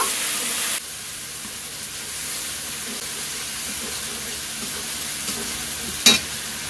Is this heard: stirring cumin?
yes